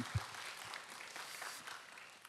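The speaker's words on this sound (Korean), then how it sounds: "하나님께 영광의 박수를 드리겠습니다" A church congregation applauds during a Friday prayer meeting, a soft, distant patter of clapping hands that carries steadily throughout the clip.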